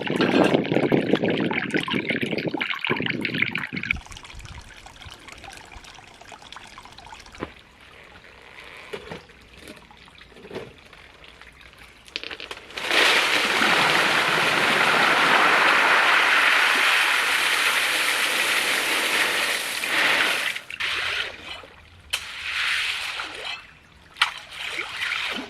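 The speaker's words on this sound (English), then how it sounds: "the trickle of water is always so loud" Trickle of water on an off-grid five-acre property in Spain, a running stream of water with splashy filling sounds, swelling loud in the middle stretch and fainter elsewhere, no voices.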